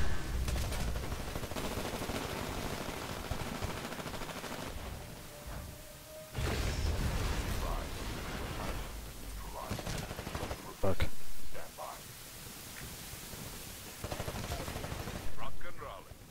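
Titanfall gunfire, repeated bursts of shooting with heavy bangs and whooshes over a loud battle din, alongside someone talking.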